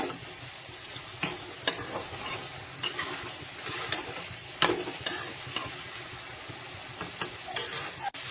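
Spice paste (masala) frying in a pan as it is stirred. A steady sizzle runs throughout, broken by repeated sharp scraping clatters from the spoon.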